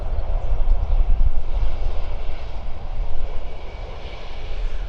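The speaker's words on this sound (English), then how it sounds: "Airbus A320 Neo of the EasyJet here." An EasyJet Airbus A320neo jet airliner at Stansted Airport gives a loud, continuous engine roar that swells and eases slightly over a few seconds, with no talking.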